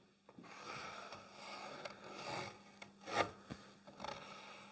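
A pencil drawing around a template on thick pine timber, giving soft, uneven scratching and rubbing strokes up close with brief pauses and small knocks.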